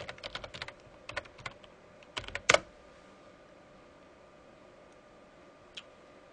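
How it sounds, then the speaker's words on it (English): Several bursts of keystrokes on a computer keyboard as a command is entered at a Windows command prompt, quick clustered taps in the first two and a half seconds, then mostly quiet with one faint late tap. "open up a command prompt and type in"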